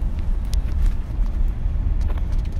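A car rolls along a campus road at Alcorn State University, giving a soft, continuous low road and engine rumble with faint ticks and rattles, fairly quiet and without any voices.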